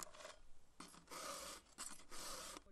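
A file sharpening the cutter teeth of a chainsaw chain, four rasping strokes in a steady rhythm, close and quiet, each a sustained scrape with short pauses between, with no talk.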